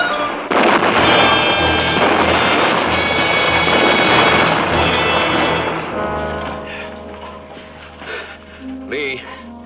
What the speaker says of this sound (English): those reactor explosions are going to shake us apart